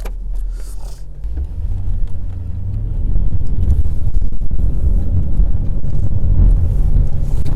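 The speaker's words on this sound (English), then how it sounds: "Let me get this thing in four-wheel drive." A four-wheel-drive vehicle climbs through snow on a cattle ranch, its engine building into a heavy low rumble with wind buffeting the microphone and no talk.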